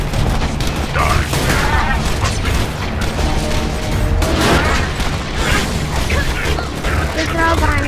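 Grenade blasts and heavy gunfire in the video game Borderlands 2, dense booms and crashes layered in a loud, continuous firefight, with players talking over the chaos.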